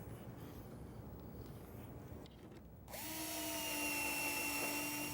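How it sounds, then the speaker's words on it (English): A power drill drives pocket screws into a wooden cabinet base, starting after a quiet stretch and whirring steadily at close range for about two seconds with a rising pitch. "I'm just going to pocket screw it in place."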